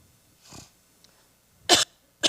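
A person coughs twice sharply and close by after a softer throat sound, in an otherwise quiet room.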